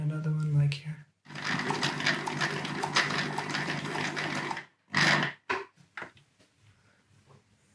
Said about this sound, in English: we're just going to sew those two short pieces like this